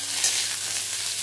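Sliced pointed gourd (potol) frying in a little hot oil for a Bengali fish curry, giving a steady, close, continuous sizzle with a brief louder crackle near the start and no talking.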